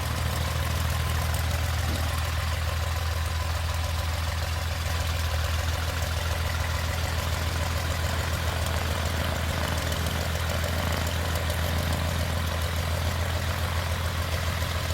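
A Continental O-300 aircraft engine runs at a steady pace, producing an unbroken, loud, low droning rumble with a dense propeller-like texture that holds even for the whole stretch.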